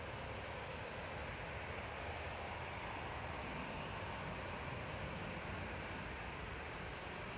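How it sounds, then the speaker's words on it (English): A Bombardier Challenger 350 business jet lands at Manchester Airport, heard as a steady broadband engine roar, distant and fairly faint, with no distinct peaks. "Bombardier Challenger 350 about to touch down."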